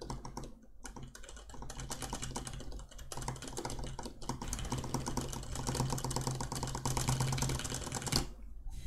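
Rapid, continuous clicking of computer keyboard keys during a Hollow Knight speedrun, close and busy with dense irregular keystrokes and only a couple of brief pauses.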